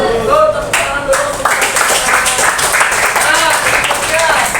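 Students clap together in a classroom during a teaching practice lesson, a brisk burst of hand claps near the recorder with voices and chatter running underneath.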